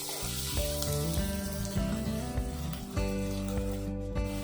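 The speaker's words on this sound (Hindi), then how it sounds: "प्याज फ्राई होने तक हम इसे चलाते हुए फ्राई करेंगे।" Onion and cumin fry in a pan over medium heat, a continuous close sizzle with stirring, under a layer of background music.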